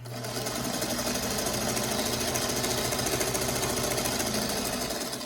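A sewing machine runs steadily as quilt block pieces are sewn together, a loud, close, continuous mechanical whir with no pauses and no voices.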